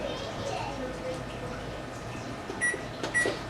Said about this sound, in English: And to preheat the oven.